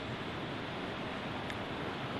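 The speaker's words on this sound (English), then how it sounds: "it's unbelievable windy" Steady roaring wind buffets the microphone high up in a tree, a dense broadband rush with no pauses and no voices.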